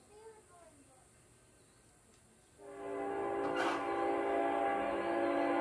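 At Folkston, a train passes and sounds a loud, sustained horn that kicks in partway through and holds to the end. Faint voices are heard briefly before it.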